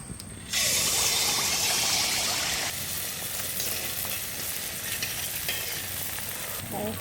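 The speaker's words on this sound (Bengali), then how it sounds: "ফুলুরি সব ভাজা হয়ে গেছে।" Palm fruit fritters (taler fulুri) deep-frying in hot oil for a Janmashtami sweet, a loud steady sizzle starting abruptly and continuing close up, easing slightly partway through, with no talk.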